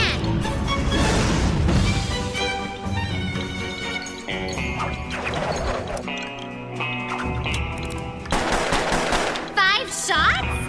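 Rapid gunfire bursts from the video game Absolutely Charming Puppeteer, loud and repeated over busy music and crashing effects, with a brief lull midway before the shots resume.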